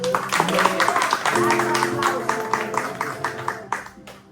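A church congregation breaks into applause, rapid overlapping hand claps under sustained tonal music or voices, fairly loud and close, tapering off near the end.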